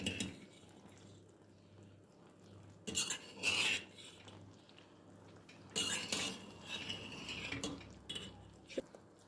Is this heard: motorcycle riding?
no